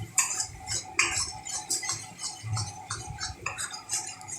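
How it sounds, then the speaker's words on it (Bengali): Soaked mustard powder being stirred into spices in a pan for a kangla fish tel jhal, with quick metallic clinks and scrapes of a spoon against the pan in an irregular rhythm, close and moderately loud, with no talking. "এবার আমি এর মধ্যে সেই ভিজিয়ে রাখা সর্ষের গুঁড়োটা দিয়ে দিচ্ছি"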